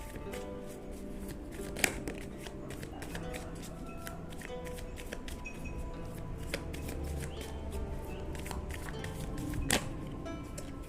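Tarot cards being shuffled by hand during a reading, soft papery riffles and flicks with a few sharper taps, close and fairly quiet with no talk over them.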